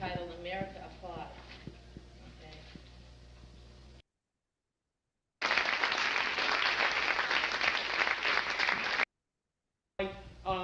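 Applause from a played video called America Applauds, a dense burst of clapping between abrupt silent gaps, preceded by talk and reproduced through a speaker.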